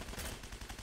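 Rapid gunfire in a multiplayer shooter, a short dense burst of shots that fills the moment, loud and close with no talk over it.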